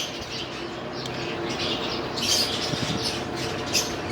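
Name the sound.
newly hatched chicks chirping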